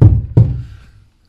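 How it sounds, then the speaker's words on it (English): A wooden alcove cupboard leg is knocked into place with two loud, close thuds a fraction of a second apart, each dying away quickly. "Knock that leg in a bit, or out a bit."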